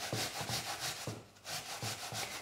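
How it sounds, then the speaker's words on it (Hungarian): An apple being grated on a sharp kitchen grater for apple pie, a close, rhythmic rasping with repeated strokes and a brief pause midway. "amikor lereszeljük ezt az almát"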